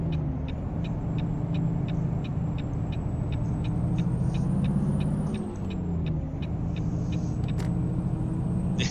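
Low, steady engine rumble of a truck with its Jake brake engaged in American Truck Simulator, a continuous throbbing drone with rapid regular clicks above it, close and loud throughout.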